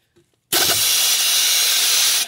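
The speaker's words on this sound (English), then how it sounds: "Good old air ratchet. Air tools are nice." An air ratchet loosening trailer leaf spring bolts lets out one loud, sustained pneumatic hiss and rattle lasting about two seconds, close up and with no talk.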